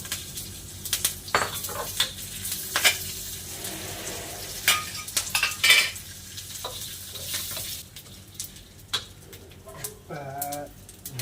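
Lentils, dried chillies and curry leaves fry in hot oil in a pan, a steady close sizzle broken by sharp scrapes and clinks of a spoon stirring against the metal, with a brief rising whine near the end.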